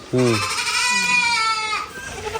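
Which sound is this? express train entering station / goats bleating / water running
goats bleating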